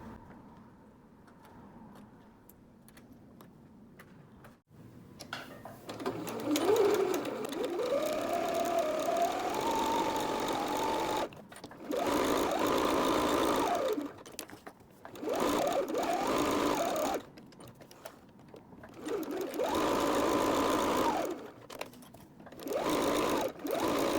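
Seams of a tote bag lining go through a sewing machine in several separate bursts of rapid stitching, each run starting and stopping with short quiet gaps between them.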